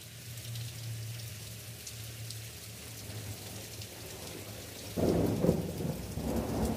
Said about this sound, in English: Free thunder.